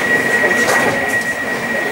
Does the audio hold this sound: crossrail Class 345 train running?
yes